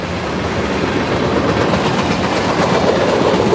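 Nighttime freight train moving on rails, a loud, steady rumble with faint wheel clatter that holds constant throughout and no voices.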